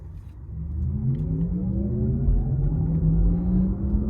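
A 2024 Porsche Taycan GTS electric sports car drives steadily with a low rumbling note and a rising whine as it accelerates, continuous and fairly loud.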